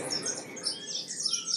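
Small birds feeding in a field chirp and tweet continuously, close and fairly clear over light background noise.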